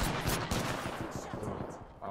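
Enemy gunfire in a video game, a quick close burst of rapid shots that fades out over about two seconds, loud at the start and tapering.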